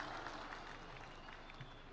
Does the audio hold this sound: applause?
yes